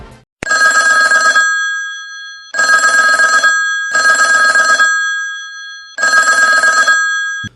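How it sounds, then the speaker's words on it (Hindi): A police station chief's government mobile phone rings with an electronic bell tone, four loud, evenly spaced bursts separated by short silences, close and alone. "अचानक उनके सरकारी मोबाइल पर फोन आता है।"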